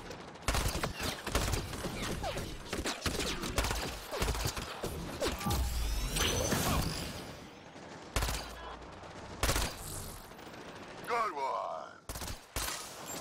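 Cannon fire in the game Andromeda comes as repeated heavy booming blasts mixed with mechanical clanks and creaks, loud and irregular, with someone talking between shots.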